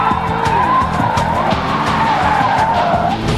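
A 2001 Chrysler Sebring is driven hard with its tires skidding and squealing, loud and close over a continuous engine drone, with no talk.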